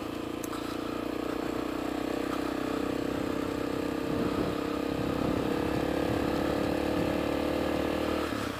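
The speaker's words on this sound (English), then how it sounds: "The other thing you can hear is you can hear the motorcycle pretty well." A motorcycle engine hums and buzzes continuously while riding, picked up through a helmet-mounted microphone, with steady wind and mechanical rattle, heard alone without talk.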